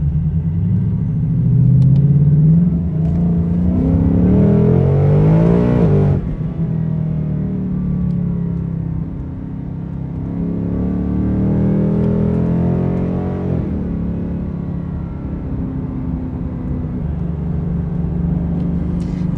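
Ford Mustang Mach 1 fitted with an H-pipe exhaust revs up in two rising pulls, the loud close engine note climbing in pitch before dropping off, then settling into a deep rumble.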